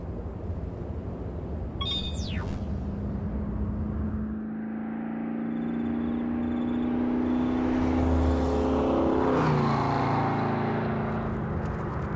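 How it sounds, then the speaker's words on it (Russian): In a video game, a car engine drones steadily and then gradually rises in pitch and loudness, as if the vehicle is approaching or revving, under a dim background hum with no voices. "Похоже на звук автомобильного мотора"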